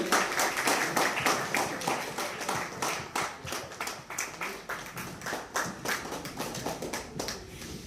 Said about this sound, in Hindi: जोरदार तालियां, एक बार जोरदार तालियां।